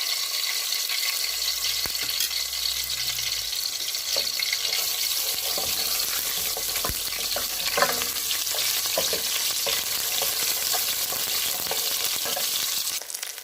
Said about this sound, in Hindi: तो जिंजर गार्लिक पेस्ट जब सौते हो गई है